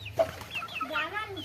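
Chickens cluck at a home where pigeons and hens are kept, several short close calls in quick irregular succession with a steady low hum beneath and faint human voice mixed in.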